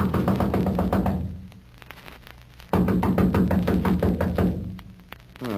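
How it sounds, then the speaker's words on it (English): Knocking on a door in an old detective radio drama: rapid, even series of knocks in two long bursts with a short gap, loud and close over a steady low hum of the old recording. "Come on, let's knock."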